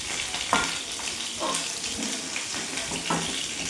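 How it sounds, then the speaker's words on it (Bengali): Cauliflower florets sizzling in hot oil in a pan for a vegetarian cauliflower and potato curry, a steady close crackle and hiss with small spitting pops throughout. "ফুলকপিগুলো এরকমভাবেই ভাজবেন, এর থেকে বেশি ভাজলে পুড়ে যেতে পারে"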